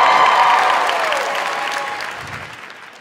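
A studio audience applauds loudly at first, the clapping gradually fading away, with faint tonal sounds running underneath.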